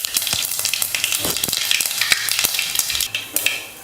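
Mustard seeds and cumin crackle and sizzle in hot oil in a heated pan for sambar, a dense, loud spatter of rapid pops that sputters and thins out toward the end, with no talk.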